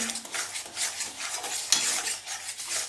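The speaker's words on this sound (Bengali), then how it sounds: "এবার সুজিটা হালকা করে নাড়বো নয়তো ডেলা পাকিয়ে যাবে" A spoon stirs semolina with water and mango pulp in a pan, making rhythmic scraping strokes against the metal along with a faint simmering sizzle. No voices are heard.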